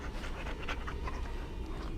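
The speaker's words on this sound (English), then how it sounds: "I hear barking but I don't see the dog moving" A dog in the fantasy role-playing game Dragon Age: Origins makes continuous close panting and breathy vocal sounds, steady for two seconds over a low, busy game background.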